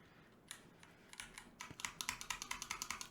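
Several keys pressed together on a custom mechanical keyboard, starting as scattered clacks and building into a steady run of sharp, close, evenly spaced chord strikes, each one loud and crisp with no talking.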